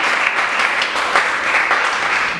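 A church congregation claps together in a sustained round of applause, dense and even with no break, fairly loud and close.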